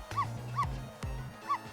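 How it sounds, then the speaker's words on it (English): A dog in the Ghost Trick puzzle game barks in short, sharp yips, three quick barks spaced evenly over under two seconds, clear and close against a quiet game backdrop. "Dog is upset about it?"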